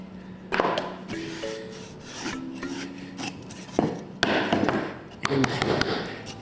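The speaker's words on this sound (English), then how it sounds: "Rub it in nice and smooth, fill in all the gaps" Glue and fine sawdust are rubbed by hand into gaps in reused chipboard, making close, dry scraping and scuffing strokes with a few sharper knocks among them.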